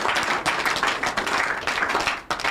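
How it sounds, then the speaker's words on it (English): A studio audience on a Nigerian call-in family program claps in a dense, steady patter of hands, close and fairly loud, with a brief dip near the end before clapping resumes. "If una won't clap, make una clap."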